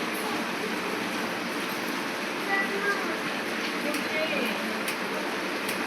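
Dense, steady rain hiss fills the whole stretch, even and continuous, with faint scattered patters on top.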